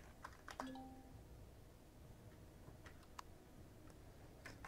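Sparse, faint keyboard taps typing a console command into Empyrion Galactic Survival, a few isolated clicks spread over a quiet background hum.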